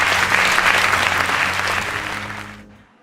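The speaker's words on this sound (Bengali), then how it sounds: "আমার জন্য একটা জোরে করতালি।" A quiz show audience gives a burst of loud applause, dense close clapping that holds steady and then tapers away to silence after about three seconds.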